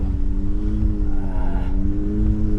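A BAIC BRABUS BJ80 G800 SUV drives in circles, its engine a steady, loud, close low drone with a slight rise and fall in pitch and no talking.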